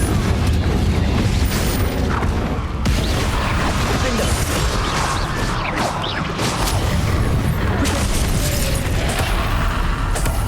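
Confringo fire spell blasts in Hogwarts Legacy gameplay, a dense, loud, continuous barrage of booming bursts and crackling mechanical rumble over about ten seconds, with no pauses.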